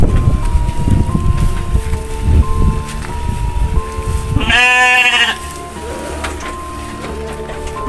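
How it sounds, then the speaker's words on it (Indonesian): A goat gives one loud, wavering bleat lasting about a second, heard after a stretch of rustling and background noise, close to the listener. "sang nenek membekalinya seekor kambing yang sangat kuat"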